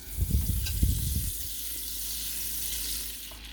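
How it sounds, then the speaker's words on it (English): Olive oil and salted butter start to melt and sizzle in a pan, with a few louder clattering knocks early on, then a soft, steady frying hiss. "As well as 2 tablespoons of salted butter. Just let this melt down."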